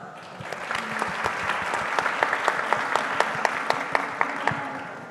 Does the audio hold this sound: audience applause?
yes